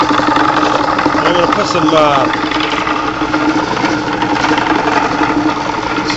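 A homemade rock tumbler's motor runs with a steady close mechanical hum and rattle throughout, while someone talks over it.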